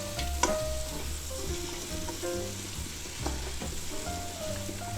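Onions being stirred and sautéed in an Instant Pot while making pot roast, a continuous close sizzle with occasional spoon scrapes along the bottom of the pot, no one talking.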